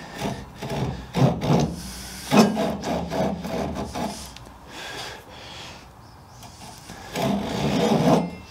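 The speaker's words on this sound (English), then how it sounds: "I will establish the cut with the smaller teeth of the crosscut saw" A sharp Japanese ryoba pull saw cuts into wood with its finer crosscut teeth, producing irregular rasping strokes in bursts with short pauses between them, close and fairly loud.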